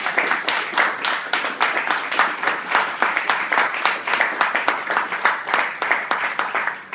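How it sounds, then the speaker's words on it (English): An audience at a laboring cooperative launch gives a round of applause for donors and helpers, steady close clapping with a rhythmic, slightly uneven pulse throughout. "I just want to give you guys a huge round of applause"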